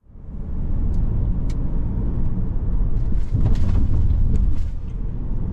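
A 2025 Ford Bronco Sport Big Bend drives along a road, its steady low engine and road rumble holding continuously with some tire and wind noise rising slightly midway.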